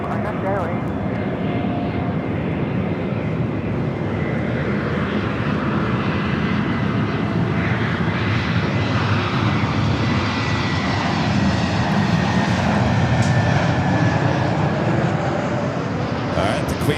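Lufthansa Boeing 747 on its takeoff roll down runway 24 left at LAX, a loud, sustained roar of four jet engines rumbling steadily throughout, with a voice talking over it.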